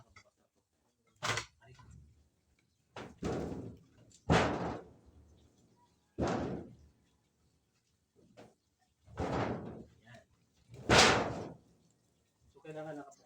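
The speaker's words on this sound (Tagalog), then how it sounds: "Hindi ko pa bukas na magaling yung aming pinto." A house door that won't open properly gets worked at, giving a series of sharp knocks, bangs and scrapes spread out with quiet gaps between, close and fairly loud.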